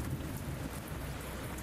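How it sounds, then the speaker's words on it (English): Steady rain pouring down, a dense, constant hiss of drops close by with a low rumbling undertone and no other sounds. "And rain. Well, shit."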